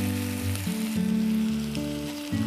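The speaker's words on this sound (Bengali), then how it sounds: "এরপরে আমরা কিমাটা ঢেলে দিচ্ছি" Minced meat tipped into hot oil in a pan already holding onion, ginger paste and cumin, giving a loud, steady close sizzle with shifting tones as it settles and is stirred.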